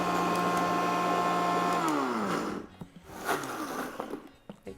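A strong blender runs loud and steady while processing ingredients for a hearty beet soup with sausage and beans, then its motor winds down and stops, leaving a few faint knocks and clatters.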